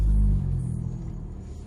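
A Honda Civic Type R FK2 on Michelin Pilot Sport 4S tyres pulls away from a tyre fitter into Birmingham rush-hour traffic, a loud low engine rumble at first that eases into a softer, steady drone.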